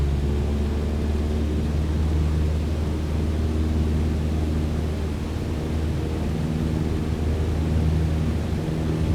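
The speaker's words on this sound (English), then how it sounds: "we're now going to set the power for takeoff thrust, and we're going to let this thing get going" A light aircraft engine runs at takeoff thrust in the VATSIM flight simulator, a steady loud drone with a low hum and broad rushing noise that holds evenly throughout, with no talking.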